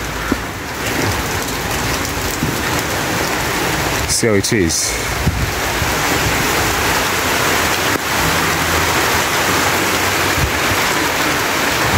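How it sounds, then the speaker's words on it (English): Steady heavy rain pours down throughout while a man walks through a residential neighbourhood in Mombasa, speaking briefly over the hiss of the downpour. "Even if it's raining, I'll just walk and show you guys how it is."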